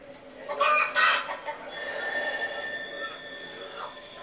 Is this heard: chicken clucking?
yes